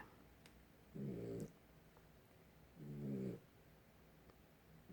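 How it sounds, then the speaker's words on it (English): Quiet, low snoring from a nearby dog, two slow rumbling breaths a couple of seconds apart over a faint background hiss. "You hear my dog snoring in the background?"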